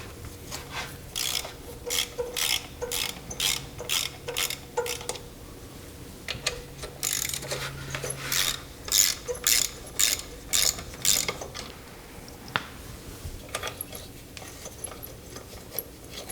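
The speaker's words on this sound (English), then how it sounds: "Now we need to remove the two 10mm bolts on the either side of the EGR" Hand ratchet backing out 10mm bolts from the EGR valve on a GM 3.4L V6, with rapid clicking bursts in repeated strokes separated by short pauses, close and clear with no talk.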